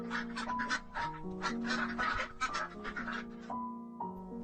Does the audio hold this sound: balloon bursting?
no